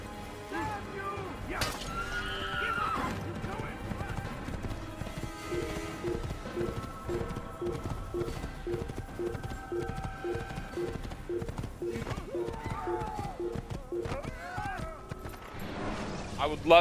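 Horse sounds in Assassin's Creed gameplay: whinnying and rhythmic clip-clopping hooves mixed with game effects and music, heard under a player's near-constant talking.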